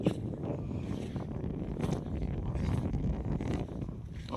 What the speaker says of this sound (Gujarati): પવન ઉડવા મળ્યો છે